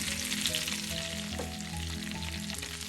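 Curry leaves crackle and fry in a pan for a chutney, a soft continuous sizzle with light stirring, fairly quiet and steady.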